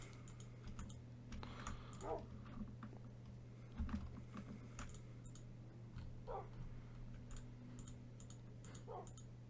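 A dog barks a few times in the game Minecraft, short sharp yaps spaced several seconds apart over steady keyboard clicking and a low constant hum.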